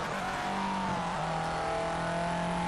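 A Red Bull–sponsored rally car in the Colin McRae Dirt video game snarls through hairpin turns, its engine note dipping and rising as it shifts and accelerates, loud and continuous throughout.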